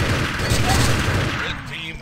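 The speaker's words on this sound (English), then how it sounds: "We're hearing lots of shots." Rapid overlapping gunshots crackle in the competitive shooter Urban Terror, a dense, steady burst of fire lasting a couple of seconds, fairly loud and close, with a voice talking underneath.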